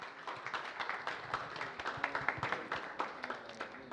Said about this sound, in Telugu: గట్టిగా ఒక్కసారి శశి గారి కోసం క్లాప్స్ అండి